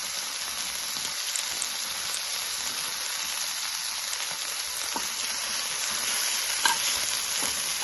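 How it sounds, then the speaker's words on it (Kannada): Brahmi leaves sauté in a pan with a steady, bright sizzle and occasional stirring scrapes. The hiss stays close and even throughout, and no one speaks. "ಎಲೆಗಳನ್ನೆಲ್ಲ ನೀಟಾಗಿ ಬಾಡಿಸ್ಕೊಳ್ಬೇಕು"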